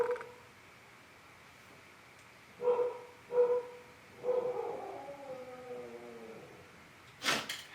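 A dog gives a few odd, strained yips and short howling barks, spaced apart with a wavering drawn-out cry among them, close by in an otherwise quiet room.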